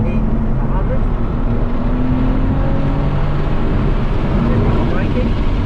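A BMW M2 engine drones loud and close on a race track, a steady, continuous roar with wind buffeting and no clear pauses, as the car runs hard under power.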